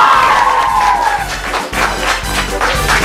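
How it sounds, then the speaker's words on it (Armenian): Audience at a treasure-hunt game show bursting into loud applause mixed with cheering and shouts, a dense close roar that dips briefly and then swells again. "Ծափահարություններ"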